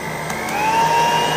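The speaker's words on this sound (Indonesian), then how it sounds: "seperti ini ya, saya akan pakai mixer" An electric mixer whirs steadily at close range for a short stretch, its motor tone rising slightly as it stirs cake batter for kue samir.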